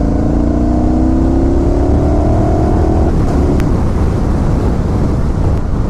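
A 2016 Motus MSTR with a V4 engine pulling hard in third gear, a loud rising engine note climbing for a few seconds before giving way to heavy wind rush, up close.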